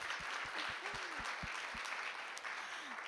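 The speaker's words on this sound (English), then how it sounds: "Okay, round of applause." Audience at a food action summit applauding in a full, steady round of clapping, with a few low thumps and a faint voice briefly heard beneath it.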